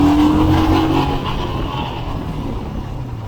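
A 2021 Royal Enfield Himalayan motorcycle accelerates with a loud, close engine roar that is strongest at the start and then eases into a steadier drone.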